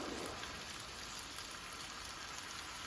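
Garlic sizzles on a Blackstone griddle, a faint, steady crackling hiss of fine pops that runs evenly throughout with no voices.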